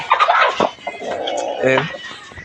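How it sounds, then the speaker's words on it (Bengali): A rooster among farmyard poultry gives a short run of close, loud clucks and throaty calls, with a brief voice mixed in. "ওই যে আমার মোরগ ঘাড়ু দেখতে পাচ্ছেন"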